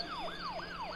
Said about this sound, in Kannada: ಸೈರನ್ ಸೈರನ್ ಕೇಳ್ತಾ ಉಂಟು